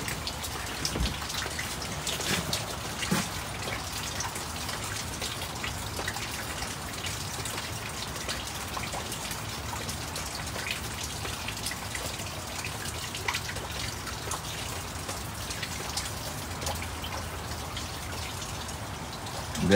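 Steady rain falls on a garden with a dense, even patter and hiss of drops, constant and enveloping for the whole stretch. No voices are heard.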